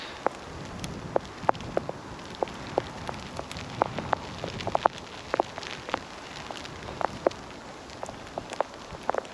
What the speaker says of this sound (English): throwing it down with sleety hail falling on the lens